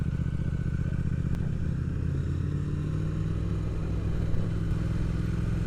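A motorcycle ridden along a road through an industrial area, giving a steady, loud engine drone with low rumble and faint clattering throughout, holding an even pace without talk.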